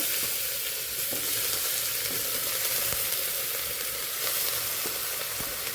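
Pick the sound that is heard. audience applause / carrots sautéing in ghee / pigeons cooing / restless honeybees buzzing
carrots sautéing in ghee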